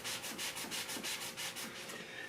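A sanding pad is rubbed by hand over a cherry wood shelf, giving a quiet, steady series of rhythmic scratching strokes, about four or five per second, heard alone.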